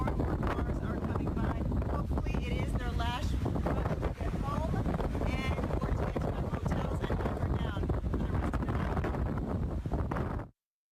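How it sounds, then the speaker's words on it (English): Hurricane-force wind gusts buffeting an outdoor microphone during live storm coverage, a constant loud roaring rumble that swamps the whole clip, with a voice faintly audible beneath it before it cuts off abruptly. "Audio obviously a little bit tough with the wind gusts."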